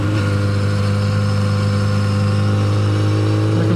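Motorcycle engine droning steadily and loudly while riding through bends on wet country roads, a constant low hum with wind rush and no talk.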